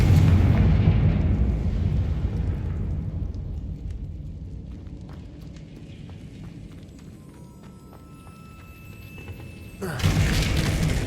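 A Confringo spell explosion in the Hogwarts Legacy video game bursts loudly at the start, its deep boom rolling and fading over several seconds before a second burst of noise near the end.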